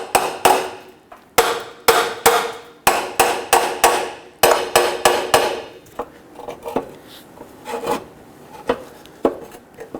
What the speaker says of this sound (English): Let's go ahead and give this a few taps.